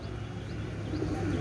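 Soft cooing from a white-eyed Oman teddy pigeon, a low steady murmur under faint room noise, continuous through the short stretch with no talking.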